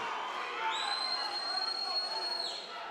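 A boxing crowd cheers on a fighter in the final minute of round five, a broad, moderately distant roar with a sustained whistle running through it, fading slightly at the end.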